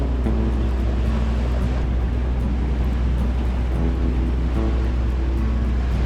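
A sailboat motoring under engine power at about 5.7 knots on an 80 nautical mile passage in the Sea of Cortez, giving a steady, loud low engine drone with constant wind and water wash throughout, no talking.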